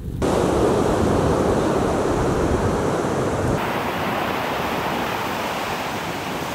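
Large ocean waves break at Whatipu Beach near Auckland, New Zealand, a loud, broad surf roar mixed with wind buffeting the microphone, steady throughout and easing slightly toward the end.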